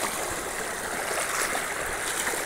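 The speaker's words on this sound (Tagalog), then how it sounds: "Ang tubig diri hinay ra ang agos no." Slow-flowing stream water, a steady close wash of rushing and trickling with faint gurgles, continuous and even throughout, with no voices.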